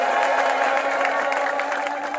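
A church congregation claps and ululates in praise of Jesus, a dense, sustained wall of cheering, high trilling cries and applause that stays loud and close for the whole stretch.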